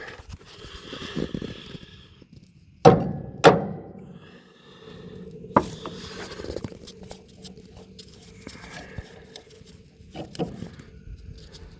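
A hammer strikes a stuck bolt on a haybine restoration, a few sharp metallic strikes ringing out, two close together then a single later hit, over quiet shop noise and faint rustling.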